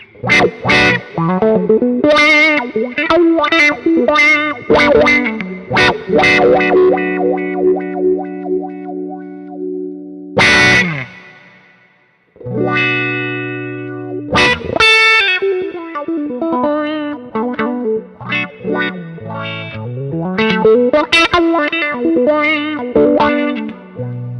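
Electric guitar riffs through a modified Vox V845 wah pedal, the tone sweeping and quacking as chords and single notes ring out loud and distorted, with a brief pause midway.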